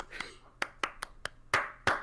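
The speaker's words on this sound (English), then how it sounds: "It's so loud. This is a fucking Orson Welles clapping" Several sharp hand claps ring out in an uneven sequence, close and crisp, with brief silences between them.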